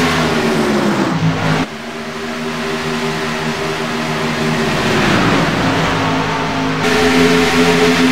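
Race cars accelerate around an oval track at Chicagoland in ANZCAR Thunder racing, a loud, steady layered engine roar with rising and falling harmonic tones as cars pass, continuous throughout with no talk.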